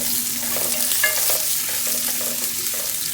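Onion, garlic and ginger sauté in a pan for a chicken kinamatisan dish, making a constant close sizzle with light stirring scrapes and no talk.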